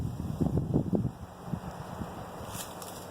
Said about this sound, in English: wind is blowing just as I try to light